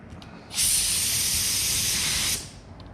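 A paint spray gun in auto body work lets out one loud burst of hissing spray, about two seconds long, with quiet before and after.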